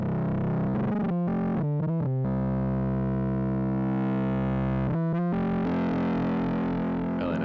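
An Ableton Operator synth through the Elektron Analog Heat's rough crunch distortion: heavily distorted tones with a rough, crunchy buzz play sustained notes broken by short choppy stabs, loud and constant throughout.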